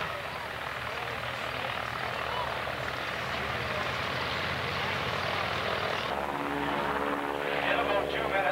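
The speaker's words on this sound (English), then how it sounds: "The military freighter helicopter." A military cargo helicopter flies overhead at a ceremony, its steady rotor and engine roar filling the air and shifting in tone near the end as it passes.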